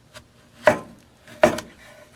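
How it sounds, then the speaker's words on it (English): An ENOWO kitchen knife slices through food on a wooden board in two distinct cutting strokes, each a short scraping crunch ending against the wood, with a faint tap before the first and quiet between. "So let's go ahead and slice this up here."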